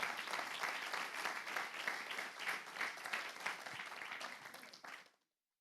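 Church congregation applauding loudly together, a steady dense wash of many hands clapping that holds for about five seconds before cutting off abruptly.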